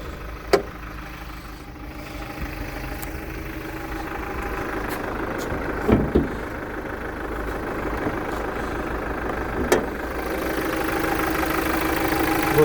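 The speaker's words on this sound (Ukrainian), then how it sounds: "дам послухати, як працює двигун" A Renault Master van's dCi diesel engine idles steadily at low volume with a soft, even rumble, broken by a few faint clicks and taps.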